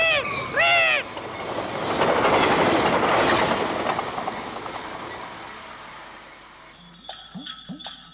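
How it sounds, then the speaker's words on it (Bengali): Cartoon train rumbling past with rhythmic clickety-clack of wheels on rails, swelling loud then fading, followed by a short melodic sting at the end. "ইস, ট্রেন আইতাছে"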